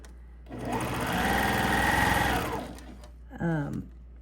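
A sewing machine stitches a continuous zipper pouch in a loud, fast, close whirring run that speeds up and then stops, followed by a short burst of speech.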